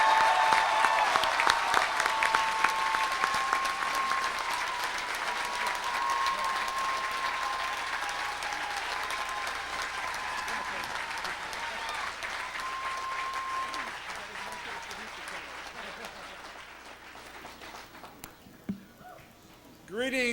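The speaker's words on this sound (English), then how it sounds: "please join me in a round of applause for our international students." A large commencement audience at a university graduation ceremony applauds international students, a dense sustained roar of clapping with a few cheers that gradually thins and fades toward the end.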